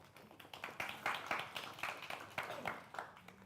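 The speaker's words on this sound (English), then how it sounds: "A round of applause, folks." A small audience claps for a band member being introduced at an alumni music show. The claps are quiet and somewhat distant, arriving in uneven bursts of scattered hand-claps rather than a dense roar.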